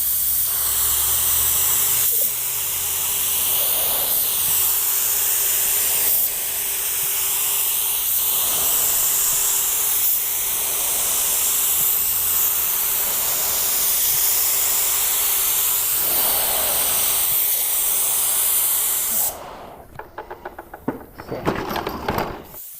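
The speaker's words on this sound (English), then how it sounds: "I really love how this Sagola just dumps the paint on." A Sagola spray gun lays clear coat onto a car at 25 PSI with the fluid wide open, giving a loud, steady hiss that runs unbroken for about nineteen seconds before cutting off into a few scattered clicks and knocks.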